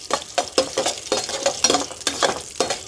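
Onion, curry leaves and chilies sauté in a pan in a village kitchen, with a spatula scraping in quick rhythmic strokes over a soft, steady sizzle. The sound is close and moderately loud, and no voices are heard.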